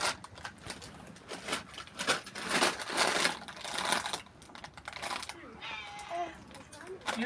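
A cat meows a few times near the end, after a stretch of clattering, tapping noises, with voices talking in the background.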